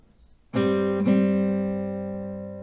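An acoustic guitar strums a chord from the G part of the intro, then a second strum a half second later, and the notes ring out and fade slowly with no one talking.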